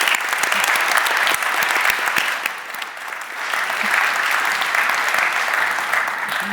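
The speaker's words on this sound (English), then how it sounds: "So I would like to ask you to clap and thank the panelists for their insightful comments." Audience at a panel session of a 2024 conference applauding the panelists, steady loud applause filling the room throughout, dipping slightly midway then swelling again.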